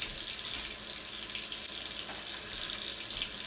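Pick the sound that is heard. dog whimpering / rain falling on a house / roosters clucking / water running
water running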